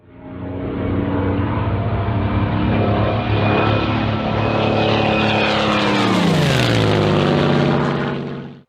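A WW2 Spitfire fighter's propeller engine roars loudly as the plane passes close by, rising in intensity before its pitch drops sharply in a Doppler sweep, then fading at the end.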